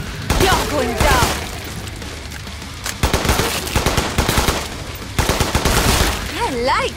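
Machine gun fire from the shooter game Killing Floor 2 comes in rapid sustained bursts, loud and close, with brief pauses between volleys and scattered in-game creature screeches.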